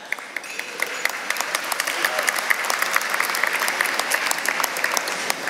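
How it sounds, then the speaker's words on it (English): Sustained audience applause at a charity gala fills the room evenly, a dense wash of many hands with scattered sharper claps, moderately distant and steady throughout. "I hear some applause for that."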